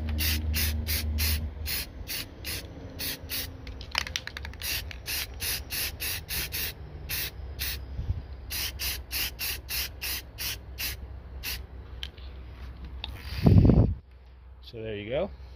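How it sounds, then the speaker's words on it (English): White primer sprayed from a can onto airgun pellets and slugs: a long run of short, sharp hissing bursts in quick rhythm, loud and close, ending with a brief clatter. "we're gonna go ahead and paint them with a painter primer. This is a white primer"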